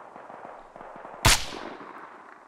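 A single sharp, loud gunshot in Arma Reforger rings out once with a lingering echoing tail, over a low steady background of game ambience.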